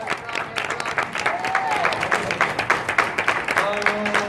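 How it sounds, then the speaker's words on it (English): Sustained applause from an audience honoring recognized athletes, including a team manager and a scholar athlete, at an event; steady clapping fills the whole stretch with a few faint tonal squeaks in the background. "another round of applause"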